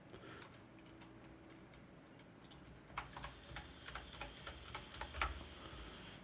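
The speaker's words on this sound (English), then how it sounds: "Then we have to enter our password here." Quiet keystrokes on a computer keyboard while a password is entered, a short run of soft, close taps in an irregular rhythm over faint room hiss, with no speech.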